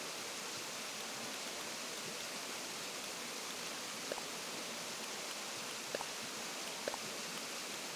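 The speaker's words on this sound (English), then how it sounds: "Listen to those soothing waterfalls," Soothing waterfalls in the video game Animal Crossing New Horizons, a steady, even rush of falling water with no breaks, soft and constant, with a few faint light ticks near the end.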